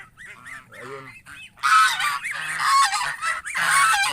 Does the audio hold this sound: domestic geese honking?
yes